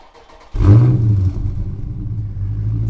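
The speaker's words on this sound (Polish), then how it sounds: "odpalamy zdalnie autko i tak ono chodzi" A Dodge Challenger R/T Scat Pack V8 engine, remote started, cranks and fires up abruptly, then settles into a deep, steady idle rumble close by.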